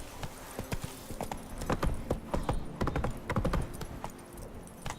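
Hooves of Roach, a horse in The Witcher 3, trotting at a steady clip-clop rhythm, close and fairly quiet over a soft ambient background.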